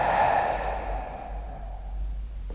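A single long exhale during a Pilates rib-breathing exercise, loud and close at first, then fading away over a low steady hum.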